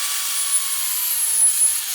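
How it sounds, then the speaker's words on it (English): A circular saw cutting a notch in wood for a chicken coop door: a loud, continuous high whine held steady throughout, close by, with no talk. "I need to come back with my circular saw and get this notch cut out."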